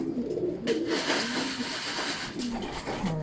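A racing pigeon coos softly on arrival at its loft during a fun race in Urdaneta, Pangasinan, with repeated low coos close by amid faint background noise.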